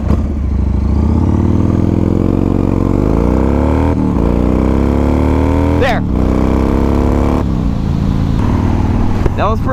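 A Yamaha motorcycle with a very big engine launches hard, its loud exhaust note climbing steadily in pitch as it accelerates away, then shifting and revving again, close and dominant.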